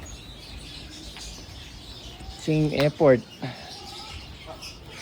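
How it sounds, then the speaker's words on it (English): Turquoisine grass parrots, a small Australian parrot, call from an aviary in a bird barn. They give a few brief, close bursts of bright, sharp chirps in the middle, and a person speaks briefly. "Those are turquoisines. They're an Australian grass parrot."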